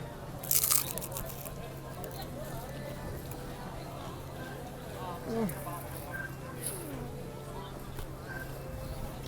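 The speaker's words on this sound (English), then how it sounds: "that is definitely crunchy" A single crisp, crunchy bite into a buffalo chicken snack, followed by faint chewing, heard close up under quiet background hum and occasional speech.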